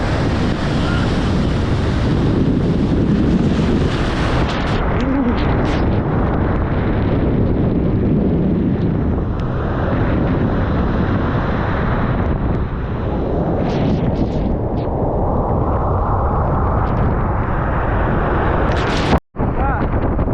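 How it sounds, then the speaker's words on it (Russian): Big sea waves crash and roll under strong wind, with dense, loud surf and wind buffeting the microphone throughout and a sharp knock near the end. "волны, очень большие."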